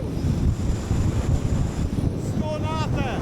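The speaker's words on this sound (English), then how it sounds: "We've got a constant wind speed of about 26 miles per hour and maximum gusts of 36." Strong, gusty wind buffets the microphone on a Lake District summit during a spring wild camp, a constant loud roar through the whole stretch, with a faint whistling tone near the end.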